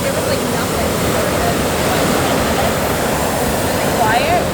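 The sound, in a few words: big ocean waves breaking on the beach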